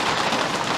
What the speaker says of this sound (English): That's raining hard now. I hear it. That's big drops.